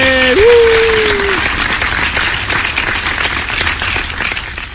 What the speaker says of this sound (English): You get some applause.